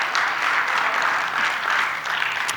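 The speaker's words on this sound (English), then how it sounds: "please give her a big round of applause" Steady applause from a conference audience at an education summit, dense continuous clapping filling the whole stretch at an even level, with no voices standing out.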